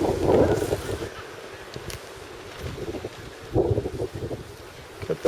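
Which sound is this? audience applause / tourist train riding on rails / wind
wind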